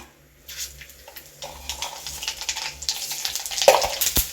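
Mustard seeds spluttering in hot sesame oil left over from frying anchovies for a Kerala fish pickle, rising from near quiet into rapid close crackles and pops that grow busier and louder.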